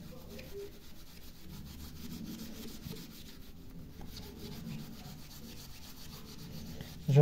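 A kitchen tap scrubbed with Pink multi-purpose cleaner, producing soft, steady rubbing close by at low volume.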